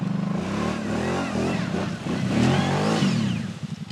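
A 2024 Kawasaki Brute Force 750 ATV stuck and losing grip, its engine revving hard in rising and falling surges, loud and close, with wheel-spin strain and a voice briefly audible.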